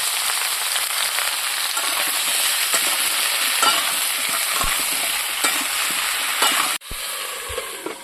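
Cauliflower and potato fry in hot oil with a dense, loud, continuous crackle, close by and unbroken until it suddenly drops away near the end and continues more quietly.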